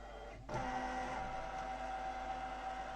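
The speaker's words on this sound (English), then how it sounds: "It's just recognising what it's saying, and it's just going to scan now, very slowly." A Brother Luminaire XV embroidery machine starts a slow scanning pass over a drawing, a steady mechanical whir with a faint tonal hum that kicks in after a half-second and holds evenly to the end.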